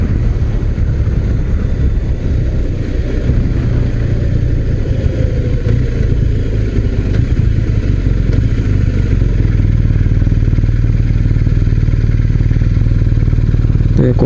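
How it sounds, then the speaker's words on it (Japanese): A BMW R1250RS boxer twin motorcycle engine idles steadily up close, a deep, even low-end rumble that holds smooth for the whole stretch. "でこれビッグボアのツインなんですけど、恐ろしいぐらいスムーズなんですよね。"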